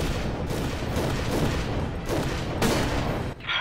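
Dense, continuous gunfire from Goldeneye Source rolls through nearly four seconds, with repeated loud blasts and a sharp, bright shot near the end, fitting a shotgun in a fast deathmatch round.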